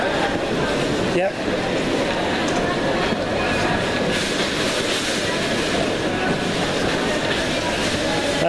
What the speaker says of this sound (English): That's our train right there.